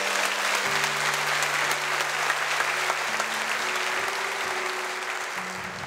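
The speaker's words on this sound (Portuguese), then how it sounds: "Aplauda a palavra de Deus." A church congregation applauds during a night of worship, with dense, steady clapping holding loud for about six seconds, a sustained musical tone droning beneath it before it begins to ease off slightly.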